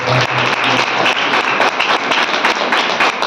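A congregation claps along during a Christian worship sermon, loud rhythmic handclaps coming in quick regular beats throughout.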